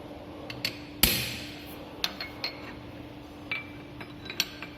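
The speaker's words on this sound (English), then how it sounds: "So in order to avoid, we are making small hammering action." Small hammer taps secure a workpiece in the holding device of a radial drilling machine: one sharp, loud strike followed by several lighter, spaced taps over a low steady machine hum.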